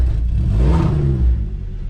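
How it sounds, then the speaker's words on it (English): Volkswagen MK4 Golf VR5 five-cylinder engine revving loudly close by, a deep rumble swelling to a peak and then easing off across two seconds, with no talk. "It still sounds kind of like a tractor at like low rev but high up, like woo, that 5-cylinder sound is epic"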